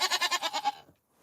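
A newborn baby goat on a farm lets out one quavering bleat, about six rapid pulses in a row, close and clear, followed by a moment of quiet and a faint sound at the end.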